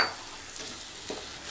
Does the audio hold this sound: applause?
no